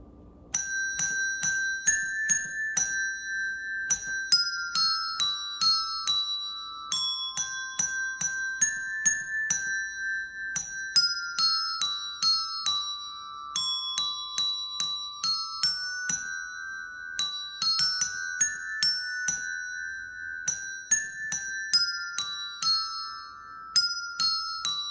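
Desk bells play the hymn Now Thank We All Our God as a steady melody of bright, ringing single strikes, evenly paced and close, each tone sustaining briefly before the next.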